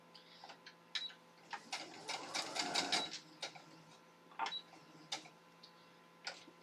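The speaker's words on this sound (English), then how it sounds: "Okay, so it's sewing the straight line, so that's good." Sewing machine stitching a straight line in short bursts of rapid mechanical clatter, one longer run in the middle, heard close but fairly quiet in a home room.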